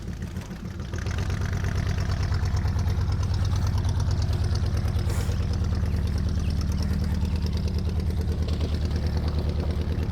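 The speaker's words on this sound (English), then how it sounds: "Well, the 76 van runs." A 1976 Chevy G10 van's engine runs at a steady idle, a loud, close, even rumble that starts up after the first second and continues throughout.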